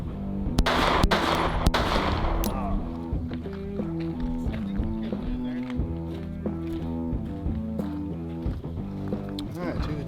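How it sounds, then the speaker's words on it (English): Three pistol shots crack in fast succession near the start of a Mozambique drill on a shooting range, two rapid and one following, then a voice talks over a steady background hum. "you can rip those 2 shots to the chest off pretty quick"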